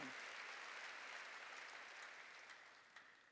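Sustained applause from a church congregation fills the room, steady and dense with no voices over it, slowly fading toward the end.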